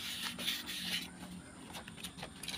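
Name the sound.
sanding rust off motorcycle camshaft with 1000-grit sandpaper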